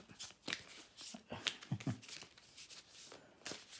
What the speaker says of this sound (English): Let me shuffle them up.